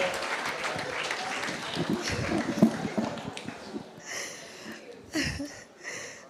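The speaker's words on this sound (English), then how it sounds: "Please, keep clapping as he leaves." An audience at a governance roundtable claps as a keynote speaker leaves the stage, a dense mid-level patter of applause that thins out, with voices and breathy sounds near the end.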